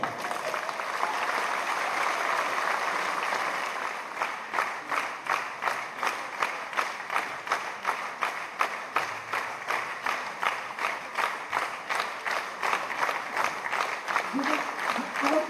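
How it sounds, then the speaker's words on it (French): Audience applause at a festive evening gathering in Lourdes, starting as a dense wash of clapping and then settling into loud, rhythmic clapping in unison, with a few voices faintly underneath. "Alors, on l'applaudit très fort"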